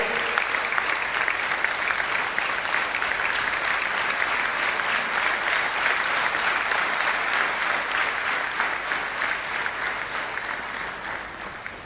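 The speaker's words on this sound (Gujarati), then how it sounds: "ફરીથી આપણે એકવાર જોરદાર તાળીઓથી બંને સ્વામીને વધાવીએ." Sustained, dense audience applause welcoming two swamis at a spiritual talk, loud and steady throughout without pause, many hands clapping close by.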